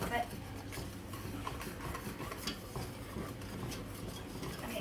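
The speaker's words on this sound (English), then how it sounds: "Wait, let me mix it." A spoon stirs thick batter and milk in a bowl, giving faint scraping and clinking against the sides in a steady rhythm, quiet and close, with soft talking around it.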